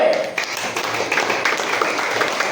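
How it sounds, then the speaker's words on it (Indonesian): Classroom applause for a small group of students, a dense, steady patter of clapping hands that runs through the whole stretch at moderate, close-up loudness. "tepuk tangan dulu untuk kelompok B"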